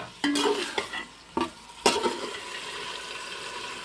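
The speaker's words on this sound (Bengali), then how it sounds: "এখন দিয়ে দেবো পাঁচটা বড় সাইজের টমেটো কুচি একটু লবণ দিয়ে দেবো" Five large chopped tomatoes with salt hit a hot pan, giving a sudden loud sizzle followed by a few stirring scrapes that settles into quieter frying.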